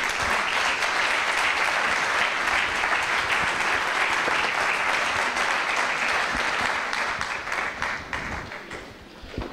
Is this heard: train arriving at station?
no